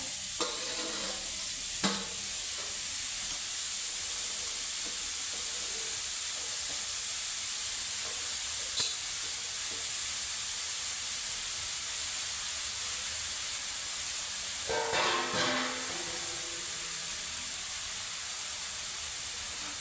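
Grated carrots sauté in ghee for carrot halwa, a steady, bright frying hiss that runs the whole time, with occasional louder scrapes of a stirring spoon, close up and without speech.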